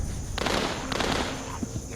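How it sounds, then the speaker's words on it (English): A couple of sharp gunshot cracks in the VR video game Saints & Sinners ring out over a steady noisy background, fairly close, with a brief pause between them. "Then the gunshots."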